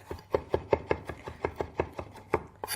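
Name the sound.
knife finely chopping fresh sage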